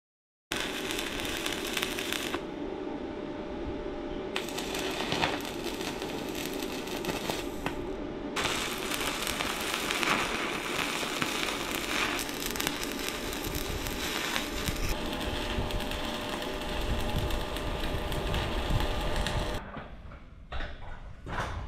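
Welding a steel bar onto a bracket: a harsh, crackling arc sizzle runs near-continuously with a few short breaks, then stops near the end, no talking.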